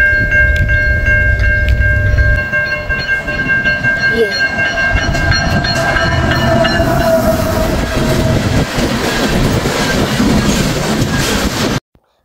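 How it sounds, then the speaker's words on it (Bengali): A train rolls past beside Lake Wabamun, Alberta, loud and close throughout, its wheels and cars rumbling with steady clatter and a sustained horn-like tone ringing over the passage before it cuts off abruptly. "একটা ট্রেন আসতেছে।"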